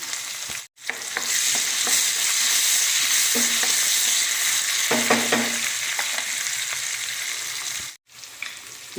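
Chopped onions sauté with salt in a pan for tomato thokku, giving a steady loud sizzle with soft scraping stirs throughout and two brief breaks in the sound.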